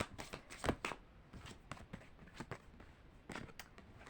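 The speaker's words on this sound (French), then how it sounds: "Je vais tirer d'autres cartes pour y voir plus clair" Tarot cards are shuffled and drawn by hand, giving soft, close riffling and snapping bursts of papery flicks at an uneven rhythm, with quiet gaps between.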